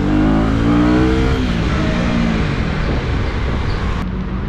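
A 2024 Husqvarna Vitpilen 250 motorcycle, a 250 cc single rated at 31 PS, revs loudly up through the gears while riding, its engine note rising and falling, with steady wind rush close to the rider and no talk.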